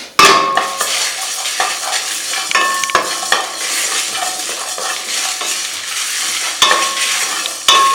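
Coriander seeds and dried chilies dry roasted in a hot pan, with a spoon scraping and stirring in quick, irregular strokes, seeds rattling and crackling close by, plus occasional sharp clinks of metal on the pan.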